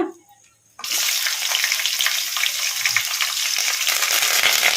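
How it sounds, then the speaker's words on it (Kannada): Green chillies and curry leaves frying in oil on a medium flame, a brief quiet moment giving way to a sudden, steady, loud crackling sizzle up close. "ಇವನ್ನೆಲ್ಲ ಮೀಡಿಯಮ್ ಫ್ಲೇಮಲ್ಲಿ ಫ್ರೈ ಮಾಡ್ಕೋಬೇಕು"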